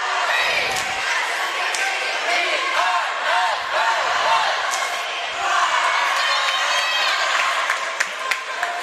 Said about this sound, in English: As you can hear the crowd really going.